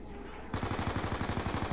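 Automatic gunfire in Call of Duty Black Ops II Zombies breaks out suddenly after a brief lull, a loud, rapid, evenly spaced burst of shots continuing to the end without talk.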